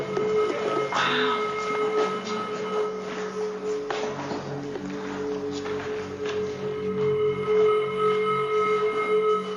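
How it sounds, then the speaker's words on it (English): An underground train moves through a tunnel near Aldwych station, producing a continuous rumbling roar with sustained metallic tones and occasional clanks, heard close and fairly loud. "That's our train."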